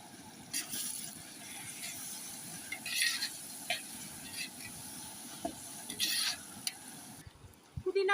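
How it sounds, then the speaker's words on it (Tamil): Onions, tomatoes, green chilli and ginger-garlic paste sautéing in a pan for biryani, a quiet steady sizzle with intermittent scraping and stirring strokes of a utensil, fairly faint and close. "வதங்கிட்டு பாருங்க, இன்னும் கொஞ்சம் வதங்கட்டும்"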